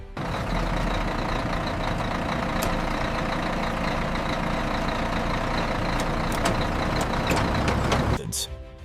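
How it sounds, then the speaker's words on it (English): A loaded truck idles at a cassava processing plant before the hydraulic tipper, a low steady engine rumble with faint clicks and a brief hiss near the end. "Once weighed, the truck is directed to the hydraulic tipper."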